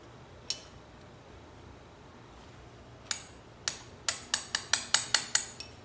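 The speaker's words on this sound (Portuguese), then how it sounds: "batendo aqui com o martelo" Sharp metallic taps of a hammer on a small chisel loosening a carburetor nut on a Yamaha XV 250 Virago motorcycle: a single tap, a pause, two more, then a quick run of about eight ringing strikes, close and clear.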